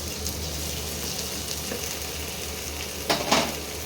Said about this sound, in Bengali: ভাজা ভাজা হয়ে গেছে, এবার আমি টমেটোটা দিয়ে দিলাম।